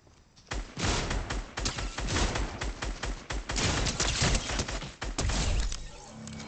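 Rapid, loud gunfire from Fortnite zero build rattles in dense bursts for several seconds, close and continuous, with no talking over it.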